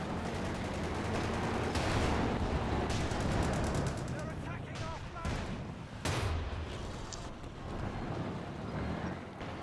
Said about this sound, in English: we got another artillery barrage called in here for no apparent reason